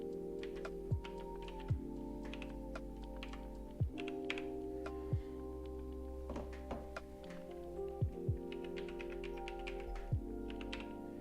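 Keystrokes on a computer keyboard typing in login credentials, soft clicks and thunks arriving in short uneven bursts over a steady low electrical hum, fairly close and quiet, with no talking.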